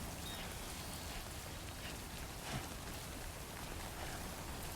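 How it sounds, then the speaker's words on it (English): Steady, dense rain in the video game Death Stranding 2 hisses evenly throughout, a continuous wash of patter with no voices. "Oh god, not rain."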